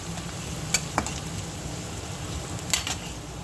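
Onions softening in a pan for homemade pasta give a steady, low sizzle with a few sharp clicks of a spoon stirring against the metal.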